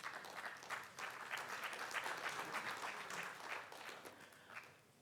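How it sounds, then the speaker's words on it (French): An audience claps warmly to welcome an astrophysicist guest at a talk, steady applause heard at a distance and fairly faint, swelling slightly before tapering off. "Vous pouvez l'applaudir chaleureusement."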